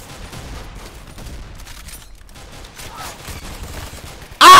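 Gunfire from a weapon in the Roblox shooter Arsenal, a scattered run of shots under game noise, ending in a loud, close burst.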